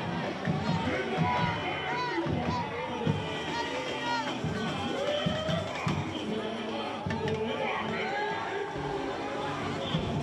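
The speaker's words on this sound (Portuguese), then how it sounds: "A gente ouve daqui as palmas, os gritos" Spectators in the stands at a samba school parade applauding and shouting, a dense, continuous crowd roar with a thick mix of voices throughout, while a commentator talks over it.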